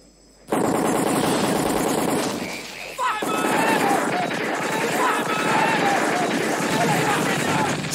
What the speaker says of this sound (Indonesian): tembakan sudah berbunyi.